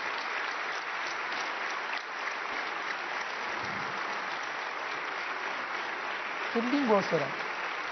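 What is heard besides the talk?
applause for the Pope entering Strasbourg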